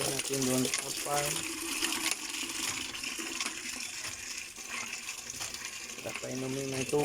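Water gushes and splashes steadily as it is poured out for farm animals to drink, a continuous wet rush with voices talking over it at intervals.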